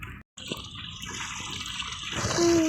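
Bath water running from a tap in the Roblox Brookhaven game, a steady close hiss of flowing water that swells louder toward the end, with a brief electronic tone overlaid.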